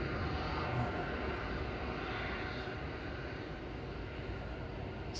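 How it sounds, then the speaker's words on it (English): A Jet2 Airbus A330-200 airliner departing Manchester Airport bound for Tenerife, its jet engines giving a loud, steady broadband roar that holds without pause, heard from the ground with no voices. "This is the Jet 2 air tanker. It's heading off to Tenerife, A330-200"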